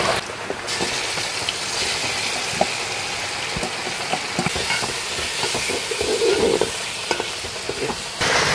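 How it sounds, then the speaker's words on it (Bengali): Chicken pieces tipped into a pan of browned potatoes for a chicken dum biryani and stirred, giving a loud continuous sizzle with scraping, clattering stirring strokes throughout. "এবার আমি মাংসটা ঢেলে দেবো।"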